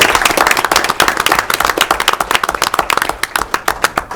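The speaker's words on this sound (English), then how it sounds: "So another round of applause for that." A school board meeting audience claps together in a round of applause, dense overlapping hand claps that thin into scattered individual claps toward the end, fairly close and loud.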